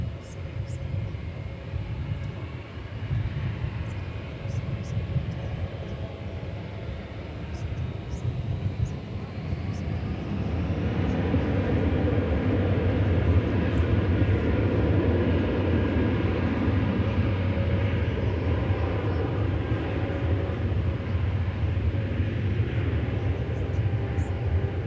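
Air Canada cargo jet at Dallas/Fort Worth airport, a low steady engine rumble that swells to a louder, sustained roar partway through, heard from a distance outdoors.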